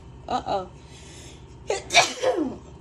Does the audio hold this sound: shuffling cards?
no